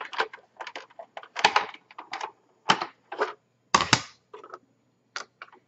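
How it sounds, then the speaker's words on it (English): A die cutting machine cranked through to cut a shamrock shape from craft material: a quiet, close series of irregular sharp clicks and ratcheting ticks, some louder than others, with no voices. "And then go ahead and run this down. And die cut this out."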